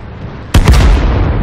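A tank's main cannon fires once in World of Tanks on the Arctic Region map, a sudden loud blast at about half a second that rolls into a sustained low rumble and reverberation with no talk.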